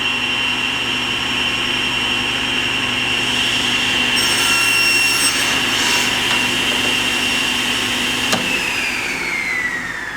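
A saw blade cuts wood as a miter gauge pushes the piece through, making a loud, steady whine with a cutting rasp partway along and a sharp click near the end. Nobody speaks.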